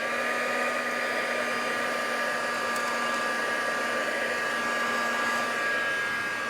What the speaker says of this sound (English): Take hold of the dryer.